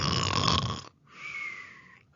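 A bear snoring in a children's bedtime read-aloud story, a voice imitating the snore: a loud rasping snore-like sound on one breath, a short pause, then a softer, higher wheezing exhale.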